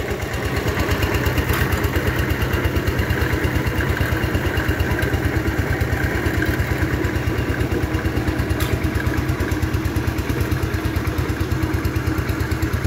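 Power tiller engine running under load as it ploughs a small muddy paddy field on tyre wheels, a steady, loud, rapidly pulsing thump and clatter that holds unbroken throughout.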